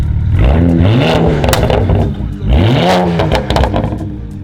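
A tuned stage 3 BMW 335i producing over 500 horsepower fires up and revs hard, its loud, throaty engine rising and falling in two strong blips with rattly mechanical clatter close by.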